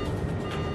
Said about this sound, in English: TCAS, sounds an alert.